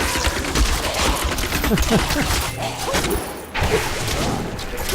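Dense, continuous gunfire from a Demon Hunter in the Diablo 3 video game, a loud rapid barrage with crashing impacts layered throughout, briefly dipping before resuming.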